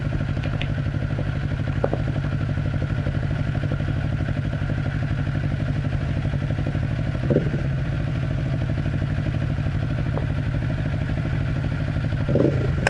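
A Kawasaki Z400 motorcycle engine runs steadily nearby with a constant throbbing idle, a few brief blips of revving and light clatter, with no talking.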